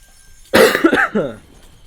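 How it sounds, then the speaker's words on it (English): One close, harsh cough bursts out suddenly, followed by a couple of rougher aftershocks trailing off into quiet. "Oh, excuse this cough."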